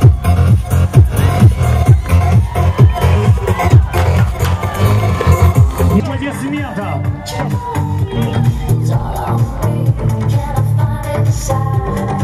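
An audience at a televised event claps and cheers, first with rhythmic loud clapping, then a looser crowd roar with whoops and voices mixed in.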